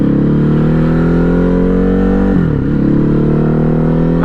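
A Ducati Hypermotard 950 RVE motorcycle pulling away from a red light, its engine revving up in a loud rising drone, dipping briefly at a gear shift before climbing again.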